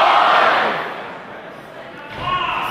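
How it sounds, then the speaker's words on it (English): A wrestling crowd boos Karl Anderson, a broad roar that swells loud, eases off, then rises again in a large hall. "And the boos of the crowd for Karl Anderson."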